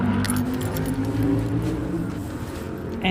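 Car keys jangle steadily while someone unlocks a car, a close metallic clinking over a low rumble that lasts the whole moment.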